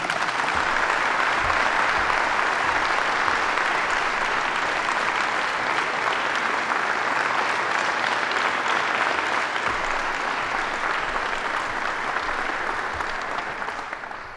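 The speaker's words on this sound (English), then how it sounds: "Ladies and gentlemen, give a big round of applause to Mr. Ron Johnson" A crowd at Governor Cuomo's public announcement of a NASA drone partnership gives a long, full round of applause, steady and close for about fourteen seconds before tapering off.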